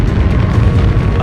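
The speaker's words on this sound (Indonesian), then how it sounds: "Suara dentuman logam terdengar lagi." Heavy metallic crash as a derailed train slams into a trackside pole in the Trainz railway simulator, a loud, dense low-end boom sustained throughout without speech.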